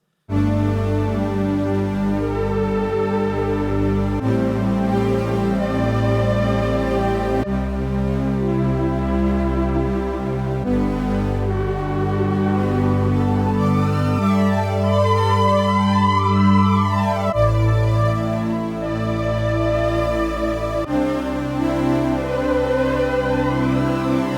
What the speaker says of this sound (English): This is like a string patch, but I've also copied it across to another sound with a square wave instead of a sawtooth